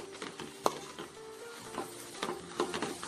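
Beaten egg cooking with shredded cabbage in a pan over a slow flame: a soft sizzle under repeated scraping of a spatula, with a sharper clink near the start, close by and with no talking.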